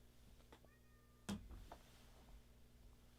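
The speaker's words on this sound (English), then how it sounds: "I can hear my other cat out there just so upset that somebody would close a door." A cat meows from behind a closed door, a single faint muffled cry followed by a few softer sounds in an otherwise quiet room.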